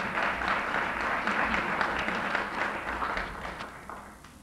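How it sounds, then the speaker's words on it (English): A crowd at a labor history commemoration and Maryland state historical marker dedication breaks into a sustained round of applause, dense and steady before tapering slightly toward the end. "Can we have a round of applause for Ray, please?"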